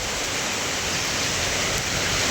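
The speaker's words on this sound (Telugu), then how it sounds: "ఆఫ్టర్ లాంగ్ టైం అయితే వర్షం పడుతుంది." Light rain falling at a chicken farm after a long dry spell with little wind, a steady even hiss of drops with no other distinct sounds.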